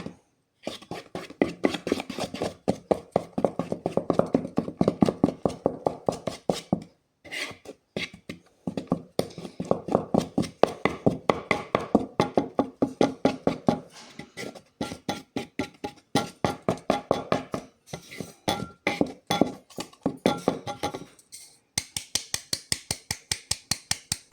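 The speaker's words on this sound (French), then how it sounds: "Faut vraiment que je mélange au fur et à mesure parce que sinon c'est un peu compliqué à mélanger quand il y a trop de farine" Cake batter with flour being stirred in a bowl, heard as a steady run of quick, rhythmic clicking and scraping strokes with a few short pauses, close and fairly loud, with no talking.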